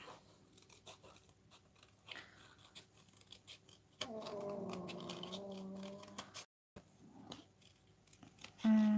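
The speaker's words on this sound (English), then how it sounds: "I'm just going to quickly fussy cut the image out." Close, crisp snips of scissors fussy-cutting an image out of paper, a series of short slicing sounds with a longer continuous cut partway through.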